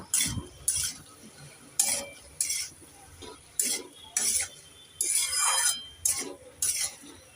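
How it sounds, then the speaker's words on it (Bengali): Onion greens and vegetables stirred in a pan with salt: a string of sharp scraping, clinking strokes of a spatula against the metal pan, about a dozen in regular bursts, close and fairly loud with no talking. "এবার আমি দিয়ে দেব স্বাদ মতন নুন একটু নেড়ে চেড়ে দিয়ে দেব"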